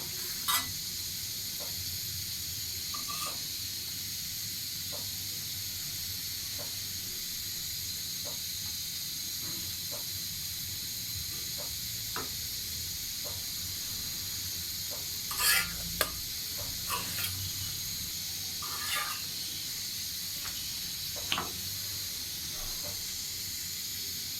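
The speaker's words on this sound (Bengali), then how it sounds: "রুটি বানাচ্ছি সকালে, রুটি আর ভাজি।" Roti and bhaji cook for breakfast with a steady, soft sizzle and hiss from the pan, broken by occasional light clinks and scrapes of stirring.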